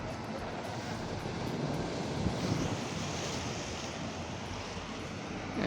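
Sea waves wash against the shore at Trondheim, Norway, a soft, continuous rushing surf mixed with wind noise, faint and steady with no clear voices.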